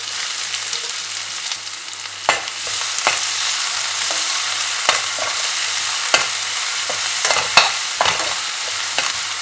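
Onions frying in a pan with garlic and ginger for a dhaba-style dal fry, giving a steady close sizzle broken by sharp knocks of a stirring spoon against the pan, with no talking.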